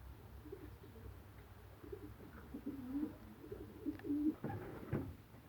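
Pigeons in a loft give soft, low cooing calls, a few rising and repeating in the second half, fairly close against a quiet room hum.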